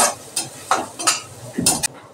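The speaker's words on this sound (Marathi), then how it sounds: "कांदा पटकून घेते आधी, जरा थोडा गुलाबी रंगावर परतते।" Chopped onion being sautéed in a pan in a home kitchen, heard as a few short scraping stirs of a spatula against the pan over a faint sizzle, close and intermittent.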